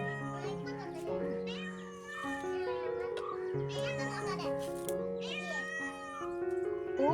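A cat meows several times up close, long wavering cries one after another, with a person's voice mixed in between.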